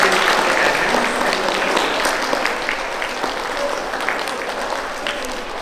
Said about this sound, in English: let's give a round of applause to the grade four